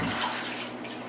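Bathtub water with the bubble jets switched on for a cat's bath, a steady close rush of churning, splashing water filling the short moment without any voices.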